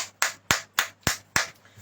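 Five sharp, evenly spaced hand claps ring out in a steady rhythm during a Hindi church worship service, close and clear with no voices.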